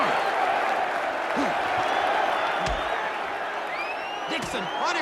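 A boxing crowd cheers and applauds in a steady roar as a fighter is driven into the ropes, with occasional whoops and thuds breaking through the continuous noise.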